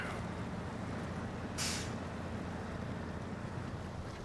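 A heavy truck in the SnowRunner video game rumbles along steadily with a low engine drone, and a brief sharp hiss like an air brake bursts out midway.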